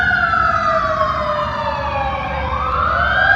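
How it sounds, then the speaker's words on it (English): Emergency vehicle siren wailing loudly and continuously through city streets, its pitch sweeping down and rising again over a low traffic rumble. "Sorry, there's a siren."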